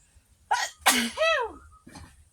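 A single loud human sneeze, close to the mic, with a sharp inhaled build-up and a voiced burst, followed by a brief softer breath or sniff.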